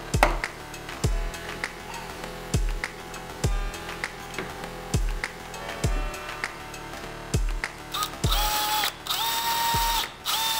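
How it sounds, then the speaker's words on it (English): A small rotary drill boring holes in a plastic robot model, with short, regular bursts of high whirring and grinding close by, separated by brief pauses, then a longer steady whine at the end. "I made some holes to add some more details to it as well."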